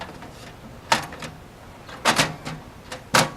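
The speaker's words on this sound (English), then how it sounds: "Now we can put the door back" A Girard GSWH-1 tankless water heater's exterior access door being refitted on an RV, with several sharp clacks and snaps as the panel seats, separated by short quiet pauses.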